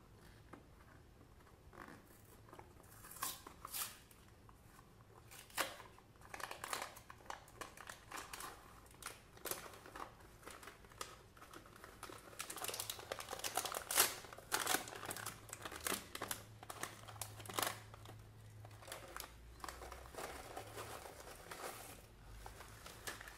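Kellogg's Raisin Bran cereal being eaten close up, with a long run of dense crinkly crunching and irregular chewing clicks that grows slightly louder midway, with no voice over it.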